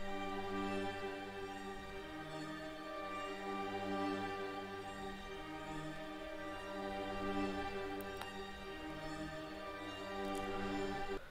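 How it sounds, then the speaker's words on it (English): Sustained string chords from the Omnisphere synth carry a top melody line, with EQ trimming the highs and lows and reverb added; the smooth layered tones hold steadily and play alone with no voice. "let's just get into the first sound right here, which is some strings from Omnisphere. And I just played some chords with the top line."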